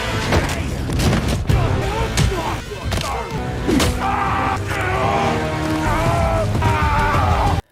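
A grenade explosion in a film scene on a boat at sea: a dense, loud roar of booming blasts and crashing debris runs throughout, with sharp bursts near the start and middle.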